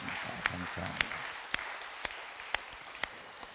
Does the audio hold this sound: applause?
yes